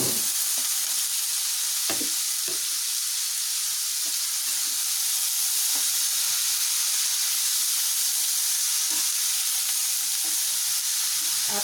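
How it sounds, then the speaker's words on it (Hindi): Cabbage and capsicum sizzle steadily in a hot pan while being prepared for an egg roll, a constant frying hiss with occasional stirring clinks and scrapes, close and alone without talk. "अब हम इसमें कैबेज और कैप्सिकम जो हमने अच्छे से वॉश करके रखा है"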